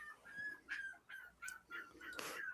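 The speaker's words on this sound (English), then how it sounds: "Sock, your dog is being very loud." A dog yelps and whines in short, high, strained bursts of about six calls. The calls are fairly faint and come from close by, with no talking over them.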